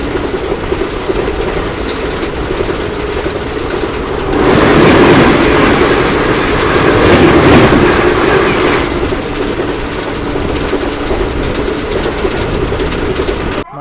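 The 17480 Tirupati–Puri Express rumbles along the rails with a continuous clickety-clack that swells louder for a few seconds midway before settling back to a steady roar, with no voices.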